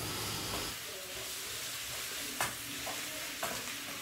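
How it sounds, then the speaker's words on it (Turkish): Peppers and tomato paste frying and being stirred in a pan while cooking vegetable meatballs, a steady close sizzle with a few sharp scrapes of the spoon, no talking. "Biberin, domatesin de her tarafına salçayı güzelce bir değdireceğiz."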